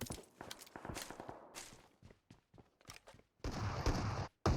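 Footsteps in the PUBG Mobile video game come as a quick run of sharp, close taps, followed by a dense, noisy burst that sounds like gunfire.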